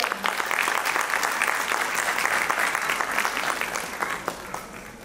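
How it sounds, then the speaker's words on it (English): Dense, sustained audience applause fills the hall at a 79th Independence Day celebration at a medical college and hospital, steady and moderately loud before thinning slightly toward the end. "A big applause for them."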